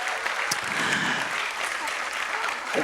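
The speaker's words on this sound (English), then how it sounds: "let's give everybody a round of applause" Audience applause at a Trans Pride awards ceremony in Washington DC, a dense, steady clapping from a seated indoor crowd lasting the whole stretch with a few faint cheers.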